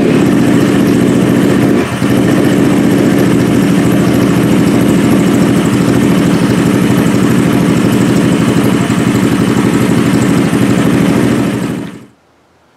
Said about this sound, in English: when I said a GY6 engine, it's just a replication of the Honda engine. It's 150 cc's and 4-stroke.